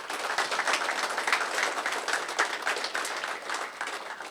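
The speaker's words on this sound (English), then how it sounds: "I think this deserves a round of applause" Scattered applause from a corporate audience, clapping steady but fairly light and somewhat distant, running evenly for a few seconds with no talking over it.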